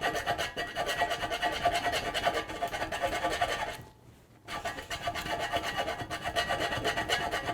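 A hand file rasps against metal during an urban logging trailer build, a steady run of close, rough scraping strokes that stops briefly in the middle, then carries on, with no talking.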